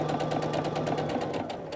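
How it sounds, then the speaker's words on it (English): A sewing machine runs steadily while stitching quilt fabric for a modern triangle quilt, a rapid even whir with a constant drone under a fast mechanical patter, close and continuous. "I'm going to let my sewing machine take it."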